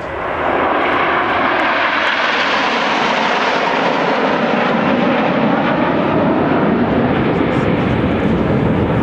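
Red Arrows RAF jet aircraft flying in diamond formation roar loudly and continuously overhead, a broad sustained engine rush that stays close and powerful throughout.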